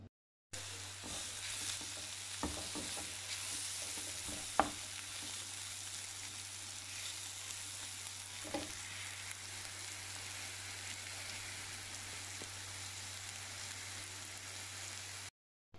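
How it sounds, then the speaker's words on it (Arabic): Dough frying in a pan over medium heat for flatbread, a steady soft sizzle and crackle throughout with a low hum underneath and a few brief clicks and knocks, no talking. "نخليها بحال هكذا على نار اللي متوسطة تتشحر مزيان"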